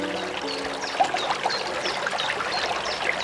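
Water trickles and splashes steadily from the stone-rimmed Venchieredo fountain in a park south of a castle in Friuli, a continuous close babbling with small droplet accents.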